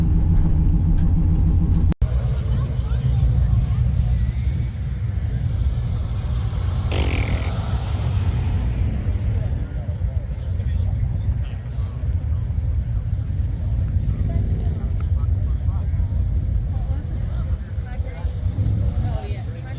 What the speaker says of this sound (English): Cars are still rolling in.